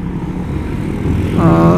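A Honda Vario 125 scooter engine catches and restarts on throttle, a steady low rumble rising to a louder, tonal idle near the end of the short burst.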